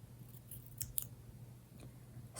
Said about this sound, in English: One trick that I have is to cut off the bottom half of the emoji.